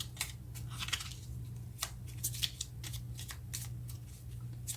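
Tarot cards are shuffled and drawn in quick, crisp riffles and flicks close by, quiet over a low steady hum, with no talking.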